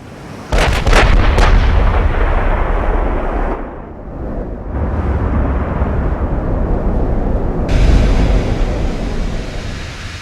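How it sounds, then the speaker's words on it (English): Battleship turret guns fire in the naval combat game Ultimate Admiral: Dreadnoughts. Several sharp, loud blasts come in quick succession, then a long rumbling roar that surges again, with no talk over it. "She seems to be firing one turret only."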